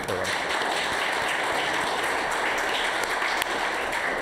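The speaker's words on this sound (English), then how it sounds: "give them a round of applause" Audience applause at a youth council question-and-answer session with local election candidates, steady and sustained clapping from a room full of people throughout.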